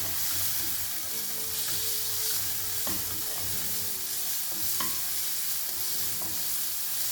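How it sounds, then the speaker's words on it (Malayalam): Chopped tomato, green chilli and onions frying in a pan while being stirred, with a steady close sizzle and intermittent scraping stir strokes, no talking. "ഇതിലേക്ക് തക്കാളി ചോപ്പ് ചെയ്ത് ഇട്ട് കൊടുക്കാം, പച്ചമുളക് ഇട്ട് കൊടുക്കാം. നന്നായിട്ട് മിക്സ് ചെയ്യാം."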